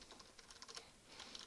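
Rapid, irregular clicking of computer keyboard typing, faint and close, continuing alone with no voices.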